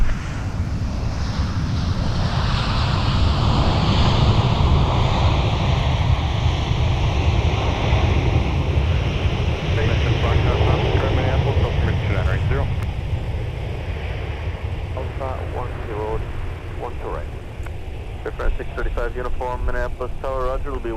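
A Delta airliner takes off at Minneapolis–St. Paul (MSP) airport, its loud, steady broadband roar filling the first half before easing, while radio-style voices talk over the later part.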